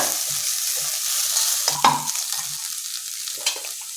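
Cluster beans frying in a pan with freshly grated coconut are stirred, giving a soft sizzle under scraping strokes of the spoon and a few sharper clacks against the pan.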